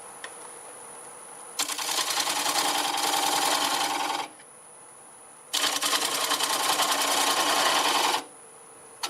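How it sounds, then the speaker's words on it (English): Black locust on a wood lathe cut with a 1/2 inch bowl gouge at about 600 RPM, two loud buzzing scraping passes of a few seconds each, separated by a quieter hum of the spinning lathe. "Okay, I'll use my 1/2 inch bowl gouge,"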